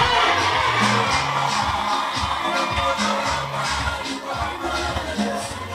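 Wedding guests cheer and ululate inside a Seventh-day Adventist church in Nyaineke: a loud, continuous crowd roar with rhythmic low tones pulsing beneath it throughout.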